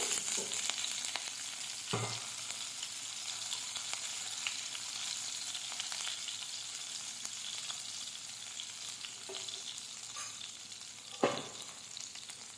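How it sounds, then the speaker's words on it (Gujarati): Whole red chilies, curry leaves and chopped green chili temper in hot oil after cumin seeds crackle, giving a soft, even sizzle with scattered pops and a couple of utensil taps. "જીરું તતડી જાય એટલે આખા 2 લાલ મરચા, લીમડો અને મરચાની કટકી નાખી દઈશું"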